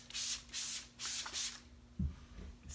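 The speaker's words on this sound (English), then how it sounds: "and you just spray it in the air." Several short hissing bursts of a Nature Direct air-freshening spray misted into the air, four distinct puffs in quick succession, close and fairly loud, followed by a brief soft thump.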